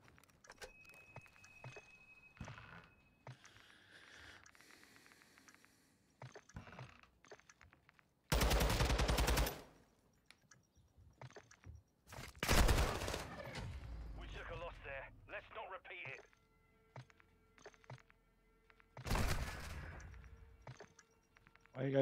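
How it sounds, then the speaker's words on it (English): Video game gunfire, including a sniper rifle, in loud bursts of shots separated by quieter stretches, with a player talking throughout. "Alright, time to pull out a real gun here. It's the sniper."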